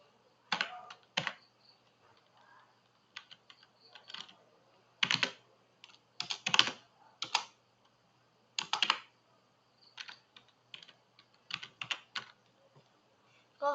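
Fingers type on a computer keyboard in irregular bursts of close, crisp keystrokes separated by short pauses, with no voices.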